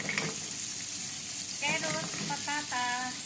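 Carrots and potatoes sauté in hot oil for a beef caldereta, giving a steady close sizzle and hiss with a few stirring clinks, while a voice briefly sounds over it near the end.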